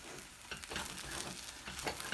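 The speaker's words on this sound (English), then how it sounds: "I can continuously mix it until it's very, very dry." Cornmeal dough is stirred in a pot until dry, giving a soft, continuous scraping and sizzling texture with repeated rhythmic strokes, faint and close with no talking.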